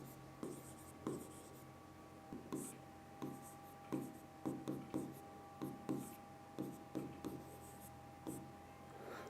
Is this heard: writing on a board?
yes